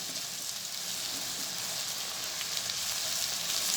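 Crushed garlic and ginger frying in desi ghee, a steady dense sizzle with crackling that holds evenly throughout, close and fairly loud, with no voices.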